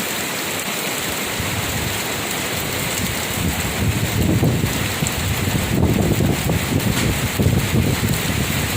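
Heavy rain in northeastern Thailand after days of heat, a dense hiss of rain on surfaces mixed with gusting wind buffeting the microphone, growing louder partway through.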